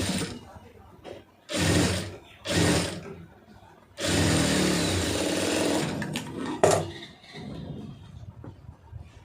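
A sewing machine stitches a blouse lining in bursts: two short runs, then a longer run of about two seconds, close and fairly loud, with someone talking between and around the runs.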